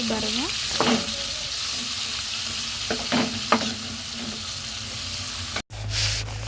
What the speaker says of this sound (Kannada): ಟೊಮೆಟೊ ಸಣ್ಣಂದು ಸ್ವಲ್ಪದಷ್ಟು ಅರ್ಧದಷ್ಟೊಂದು ಹಾಕಿ ಅದೇ ಎಣ್ಣೆಯಲ್ಲಿ ರೋಸ್ಟ್ ಮಾಡಬೇಕು